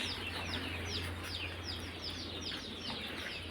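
Chickens and ducklings at the Kaliabor duck farm with Khaki Campbell ducks, many faint high chirps and peeps repeating over a low steady hum, moderately distant.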